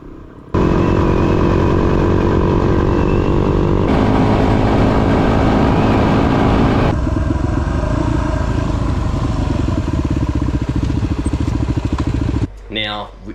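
Motorcycles ride through the Simpson Desert outback, a loud steady engine drone with clattering and shifting revs close by, continuing for several seconds before cutting off near the end.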